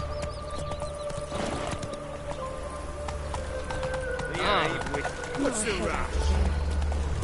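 Roach, the horse in The Witcher 3, gallops with clip-clopping hooves and a brief whinny under game music and a voice speaking, hoofbeats growing louder toward the end.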